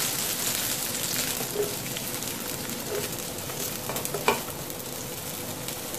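Chopped onions sauté in hot oil with popped mustard seeds for a fenugreek greens fry, a dense, steady hiss and crackle like light rain, close by, with a few faint stirring knocks and no speech.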